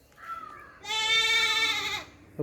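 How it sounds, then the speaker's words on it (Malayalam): A large milking goat bleats up close, a short low call followed by a long, loud, quavering bleat that fades out. "വലിയൊരാടാട്ടോ"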